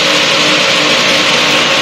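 Light experimental aircraft engine running at full idle at about 2950 RPM during a landing approach, after a radiator change, giving a steady, dense broadband drone with no pauses and no talk.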